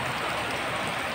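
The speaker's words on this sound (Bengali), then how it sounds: "কত জোরে বৃষ্টি নেমেছে আবারও।" Heavy rain pours down in a dense, steady roar of countless drops, loud and unbroken, with nobody talking.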